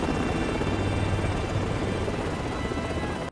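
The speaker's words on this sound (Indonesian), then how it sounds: "Saat helikopter mendarat" Helicopter landing in a film scene set in a Nigerian jungle, a steady dense rotor roar and thump that holds throughout and stops abruptly at the end.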